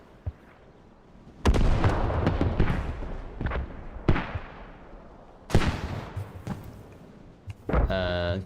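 Mortar rounds and artillery booming in the tactical shooter Squad on the Logar Valley map. Heavy blasts land at irregular intervals with long rumbling tails, two especially sharp impacts, and a caster talking over the combat.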